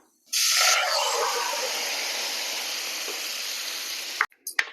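A loud, sharp sizzle bursts out as cooked dal hits hot spices in a pan for paavaykka pittla, then settles into a steady hiss before a few clatters at the end.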